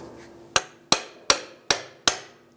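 Five evenly spaced metallic hammer blows on a CV axle separation tool wedged into a 2001-2017 Jeep Compass front end, sharp and close with short ringing decays.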